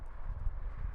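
A horse walks up nearby, its hooves clopping in soft, irregular thuds over low rumbling background noise.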